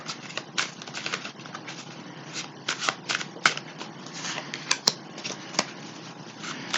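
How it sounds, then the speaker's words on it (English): Tarot cards are shuffled and pulled close up, a dense run of soft riffling flicks and sharper snaps of individual cards, uneven in rhythm and with no voice. "So I'll go ahead and pull the 6 cards,"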